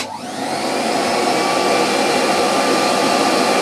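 A refurbished 1930s Electrolux XII (Model 12) vacuum cleaner runs loud and close, its motor spinning up in the first half second and then holding a steady, broad whooshing roar.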